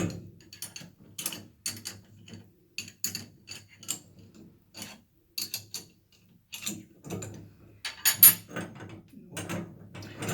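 A wrench turns a wall-mount tub faucet fitting, giving irregular bursts of close metallic clicks and ratcheting clanks with short pauses between them and no talking.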